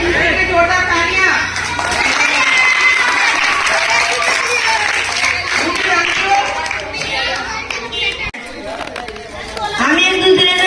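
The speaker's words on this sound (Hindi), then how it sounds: "एक दूसरे के जोरदार तालियां।" Children and adults at a Holi gathering in a slum area clap together in a loud, continuous burst, with lively chatter and raised voices running through the applause.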